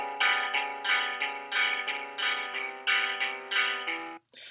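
Electric guitar with heavy effects, repeated chords ringing with distortion and chorus shimmer, steady rhythmic strums close and loud, ending abruptly.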